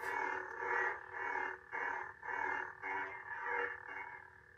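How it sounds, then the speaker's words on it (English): Idle hum from a Sith-style toy lightsaber: a droning, harmonic electronic tone rising and falling in about six even swells, close by and with no voices. "that idle sound you get there, that's very, very Sith"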